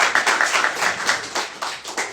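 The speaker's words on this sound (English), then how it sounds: "All right, guys, give it a round of applause" A founders' meetup audience breaks into a short round of applause, uneven clapping with distinct individual claps rising and falling over about two seconds, fairly close and lively.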